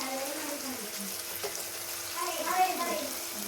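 Onions sauté to brown in a pan, a soft continuous sizzle and crackle with light stirring, while a person speaks over it throughout.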